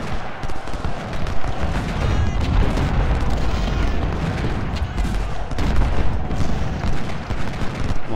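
Cannon fire in the Civil War strategy game Ultimate General: Civil War, with repeated deep booms and crackling volleys rolling together into a dense, loud battle din, and faint talk underneath.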